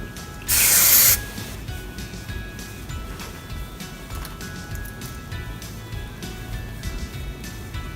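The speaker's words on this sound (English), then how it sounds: "Now for this side, I'm going to go ahead and spray a little bit of the Privé Shine Mist." Privé Shine Mist hair spray fired in a single close, loud aerosol hiss of about half a second, followed by quiet handling noise and faint background sounds.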